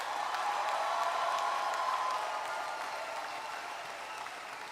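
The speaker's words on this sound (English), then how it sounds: "Please give them a big and tremendous round of applause." Applause for graduates at a university convocation ceremony, a steady even wash of many hands clapping at a distance in a large hall, fading gradually toward the end.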